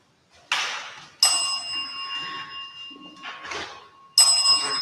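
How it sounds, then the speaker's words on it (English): An EMF detector sounds two bright electronic chimes, each a sustained ringing tone, with soft breathy bursts of sound before each one in an otherwise quiet room. "designed to go off when there's a spike in EMF or if it's manually activated. So you'll hear a chime."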